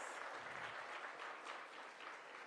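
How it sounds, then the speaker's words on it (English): Audience applause at the National Cherry Blossom Festival press conference, a steady patter of many hands clapping continuously throughout, moderately near. "Yes, that deserves a round of applause."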